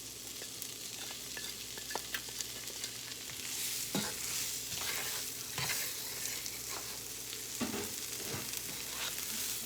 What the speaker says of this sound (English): So now I'm adding my fresh ginger, garlic, pimento, and onion.